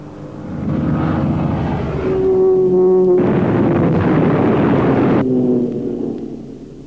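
Several British fighter aircraft squadrons roar overhead with loud, sustained engine drone that swells and shifts, with a harmonic whine rising midway and a broad rumble holding steady before fading slightly at the end.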